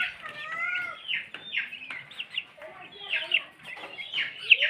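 Close, busy clucking from a few chickens, with high chirpy calls and soft murmurs in an irregular rhythm.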